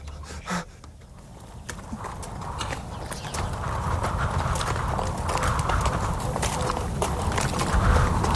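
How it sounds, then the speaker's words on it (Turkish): Hooves of a ridden horse clip-clop steadily on a rural path near a village, a continuous walking rhythm heard close over faint outdoor ambience, with a brief snort or whinny near the start. "Durdur atı. İnmem lazım."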